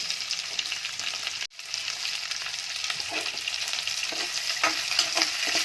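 Onions and curry leaves sizzling in hot oil in a pan for fish curry, a steady loud frying hiss with a brief drop and light stirring scrapes.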